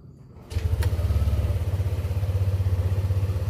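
A Yamaha Aerox 155 scooter engine starts after a brief quiet moment and settles into a steady, throbbing idle, close and fairly loud, with a single click near the start.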